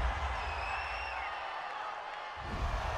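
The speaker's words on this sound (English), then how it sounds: "this crowd does not like that call" Stadium crowd at a Los Angeles Rams vs. Arizona Cardinals NFL game reacting to a roughing-the-passer penalty, a steady broad roar of voices with faint whistle-like tones, swelling slightly toward the end.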